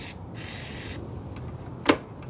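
Short hissing bursts of spray hit a cable on a 49cc scooter, one longer spray near the start and a sharp brief spurt near the end, heard close in a quiet setting.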